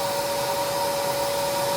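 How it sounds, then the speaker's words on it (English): A buffing machine runs steadily while smoothing the sharp edges of a right-hand OWB leather holster for an FN Reflex XL, giving a loud, continuous motor whine with a strong steady tone and no pauses or talk. "Now we're ready for buffing"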